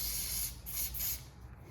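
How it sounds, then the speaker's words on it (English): Hairspray from an aerosol can sprayed into a motorcycle handlebar grip, a close, steady hissing burst lasting well over a second with a brief dip partway through. "give it a good spray in there"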